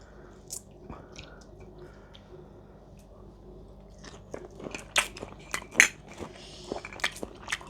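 Someone bites into grilled shrimp and chews, with a few crisp crunches and wet chewing sounds close up, getting louder and more frequent toward the end. A faint clink of dishes sits in the background.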